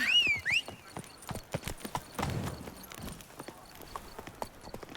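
Roach the horse galloping in The Witcher 3: Wild Hunt, rhythmic hoof clip-clops close by with a short whinny at the start, fairly quiet and unaccompanied by speech.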